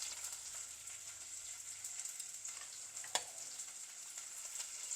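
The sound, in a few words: mint and coriander sizzling in pan for biryani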